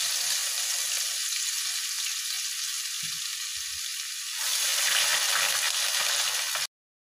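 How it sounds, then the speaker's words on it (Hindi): Garlic and ginger frying in oil for dhaba-style dal mash, a steady loud sizzle and hiss that swells briefly near the end before cutting off abruptly, with faint stirring clinks and no talking. "लहसुन अदरक को फ्राई करेंगे और इसको आपने बस हल्का सा इसको फ्राई करना है"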